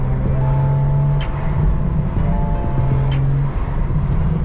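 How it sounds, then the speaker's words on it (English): A BMW M2 on the road at night in New York City, its engine a steady loud drone with sustained tonal hum and rolling road noise from inside the car, no talking. "Right now, I'm currently driving in the M2."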